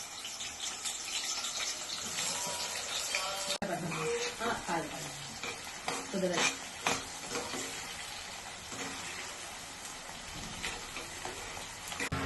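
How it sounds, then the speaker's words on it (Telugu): Onions deep frying in oil in a Healux wok give off a loud, constant sizzle, with bursts of bubbling and occasional stirring clatter throughout. "దీంట్లో ఇప్పుడు మనము ఆనియన్స్ డీప్ ఫ్రై చేసుకుందాం."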